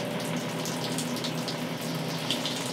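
RV faucet running pink antifreeze during winterizing, a steady stream of water splashing into a basin, continuous and fairly close, with a faint pump-like hum beneath it and no talking.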